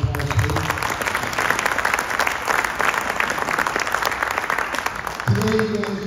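Applause for student athletes at a campus sports gathering, a dense burst of clapping from an indoor crowd that holds steady for several seconds, with a voice speaking briefly at the start and again near the end.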